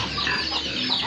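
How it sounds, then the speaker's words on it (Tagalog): A chicken clucks close by while pecking at fallen ripe mangoes under a mango tree near a rural hut, a short run of throaty, uneven clucks with no voices. "Kinakain naman po ng manok."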